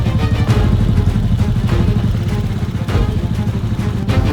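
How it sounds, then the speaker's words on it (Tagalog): A Kawasaki KLX dirt bike engine revs continuously nearby on a trail, a rough, buzzing drone with small surges in pitch and no pauses, held at the rev limiter. "Narinig ko yung iyak ng motor eh."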